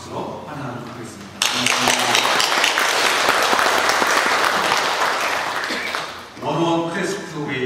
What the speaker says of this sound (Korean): 잠깐 일어나시면 저희들 박수로 환영하도록 하겠습니다.